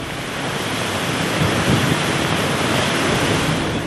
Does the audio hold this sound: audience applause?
no